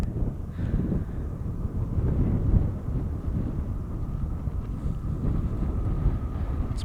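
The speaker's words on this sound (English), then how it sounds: "It's getting really windy." Steady evening wind gusting across a high mountain wilderness in Utah's High Uintas, a continuous low rumbling buffet on the microphone with no voices.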